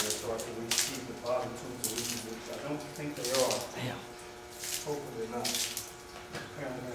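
Water pours and splashes steadily while being drained out of a leaking boiler, a continuous gushing wash with someone talking faintly over it.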